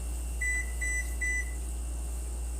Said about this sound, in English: that's just my oven let me know that it's ready to blow, ready to go